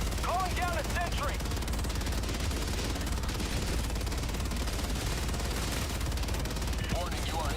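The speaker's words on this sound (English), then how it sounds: "Calling down a sentry." Gunfire in the Helldivers 2 video game goes on nonstop with a sentry turret called down, dense rapid shots over a low rumble, while short chirping electronic calls break in at the start and the end.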